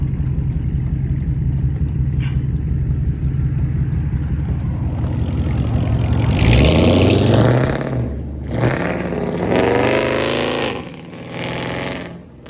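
A Dodge SRT's engine drones loudly and close at speed, then rises and falls through several hard revving pushes with gear changes. No one talks.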